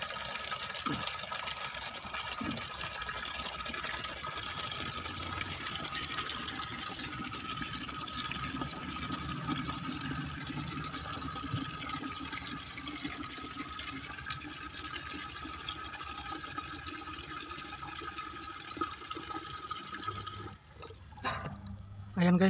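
Water pours steadily from a coin-operated water vending machine tap into a bucket, a constant hissing splash that runs throughout before stopping near the end.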